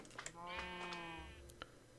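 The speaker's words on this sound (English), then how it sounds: "we have reached a critical mass of sheep at the sheep shearer facility in the barn" Sheep bleating inside a barn in a modded Minecraft world, one long, clear, wavering bleat up close with a few short clicks and blips around it.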